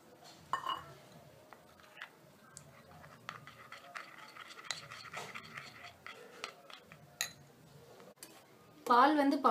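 Spoon stirring custard powder into a little milk in a bowl for homemade eggless custard ice cream, faint scattered clinks and scraping ticks under someone speaking, ending in a louder clatter.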